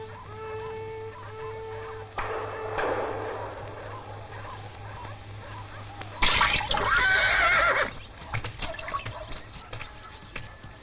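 A stallion neighs in a loud, shrill burst partway through, over a steady low hum with fainter calls and noises before and after.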